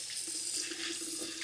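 Cold water running steadily from a house tap fed by a tankless water heater, a constant broad hiss of flow with no voices.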